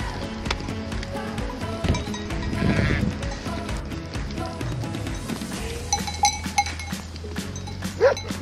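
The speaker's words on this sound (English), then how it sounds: "We were also welcomed by a herd of goats and their shepherd, who came every night before sunset." A herd of goats with their shepherd near a lagoon in Albania around sunset, bleating several times at the start and again near the end, with clanking bells and shuffling hooves at moderate distance; no talk.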